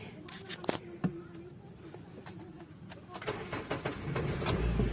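A Honda Civic FD that had trouble starting cranks and fires, with a few sharp clicks and clunks before the engine catches and settles into a low, steady idle close by.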